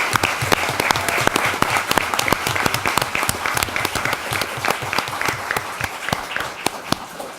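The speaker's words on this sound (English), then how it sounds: "So big round of applause to you guys." An audience at a city council meeting applauds coaches with a dense, steady round of clapping that stays loud and even throughout, with no talk over it.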